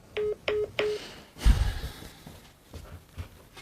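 Three short touch-tone telephone dialing beeps in quick succession, clear and close, followed by a breathy sigh-like noise and quiet background.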